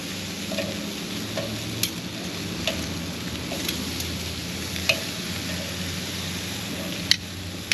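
Coffee-rubbed ribeye steak sizzles steadily in a pan after a flip, a continuous close frying hiss with occasional small pops and ticks and no voices.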